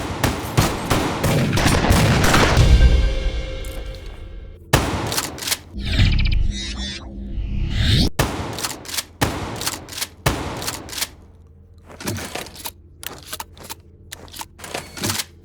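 Shotgun blasts from the Call of Duty Black Ops 3 single-player campaign, a string of about a dozen loud, sharp reports at varying intervals, with a sustained rumbling burst early on and mechanical reload clacks between shots.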